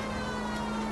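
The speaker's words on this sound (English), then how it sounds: "Siren." A video game siren wails steadily and loudly throughout, with a constant pitched tone and no voices.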